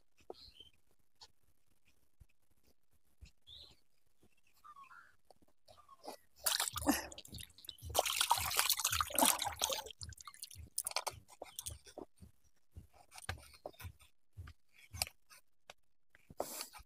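Knife slicing into a large capsicum, starting after a quiet pause with crisp crunching cuts and moist crackles that come in close, irregular bursts, with no talking.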